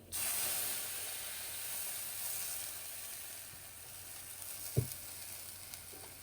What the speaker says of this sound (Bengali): পেঁয়াজ ভাজাটা হয়ে গেছে এখন এর ভিতরে আমি একটু পানি দিয়ে দেবো